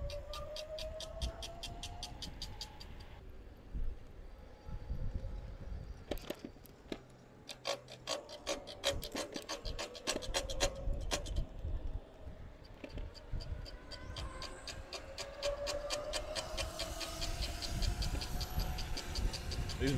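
Brakes on a dual-motor Lectric 3.0 electric bike, heard outdoors on a hill climb: a steady grinding, scraping rub with rapid ticking pulses, loud and continuous throughout with wind and road noise beneath.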